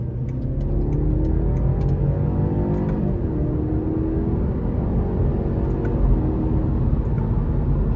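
A 2017 BMW 530i's 2.0 turbo four-cylinder roars under full throttle, its low rumble rising steadily with a rapid upshift, loud and continuous throughout.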